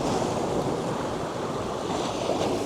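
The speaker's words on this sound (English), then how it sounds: "these wonderful rocks with the waves crashing against them" Ocean waves crash against rocks on a bright day on the Maltese coast, a steady broadband roar of surf with wind noise, loud and continuous throughout, no voices.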